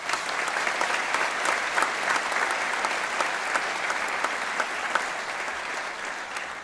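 An audience at Buffalo's State of the City address applauds steadily, an even, sustained wash of many hands clapping with no lull, moderately loud and with no speech over it.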